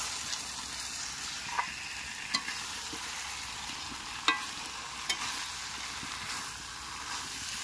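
A Bengali fish head curry mixture is stir-fried in a pan with a steady hiss, broken by occasional scrapes and taps of a spatula against the pan, close but fairly quiet, with no voices.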